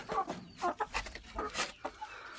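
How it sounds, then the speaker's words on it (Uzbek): Chicks clucking and peeping in a backyard coop, soft overlapping calls in a busy, irregular chatter, fairly faint and close, with no talking. "Mana jo'jalarimiz hammalari sog' salomat. Hammalari yurishibdi."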